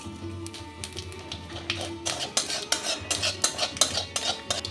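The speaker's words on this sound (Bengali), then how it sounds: "এবার এই তেলে দিয়ে দেবো একটা ফোড়ন, শুকনো লঙ্কা, তেজপাতা আর সাদা জিরে" Dry red chillies, bay leaf and cumin seeds sputter in hot oil while being stirred, a busy crackle of spoon-on-pan scrapes and taps that grows louder and denser toward the end, with no talking.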